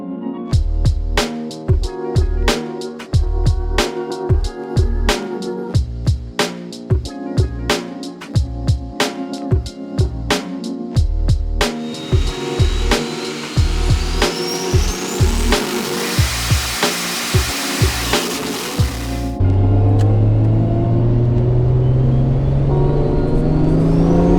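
A Nissan Skyline R33 street car first gives a long run of sharp, rhythmic engine blips and pops. It then roars through a rolling run, ending with a rising engine tone as it accelerates.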